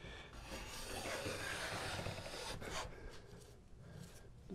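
A hand plane is pushed along the face side of a wooden trim board, giving a continuous close scraping rasp of shavings peeling off, with no one speaking.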